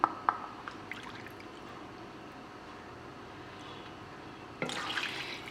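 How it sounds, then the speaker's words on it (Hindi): Half a cup of milk is poured into chocolate tea cake batter in a home kitchen, heard as a short liquid splash near the end after a quiet stretch with a few faint knocks. "और साथ ही इसके अंदर मैं 1/2 कप दूध डालूँगी।"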